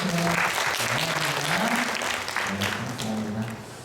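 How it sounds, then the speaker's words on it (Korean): A church congregation at a Sunday baptism service applauding to welcome newcomers, sustained dense clapping that fades slightly toward the end, with a voice speaking over it. "다 박수 한번 쳐주세요."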